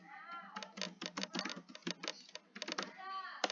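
Quick bursts of keystrokes on a computer keyboard as a name is typed during a programming demo on loops, with close, irregular clicks and short pauses, and a faint meow-like tonal sound in the background.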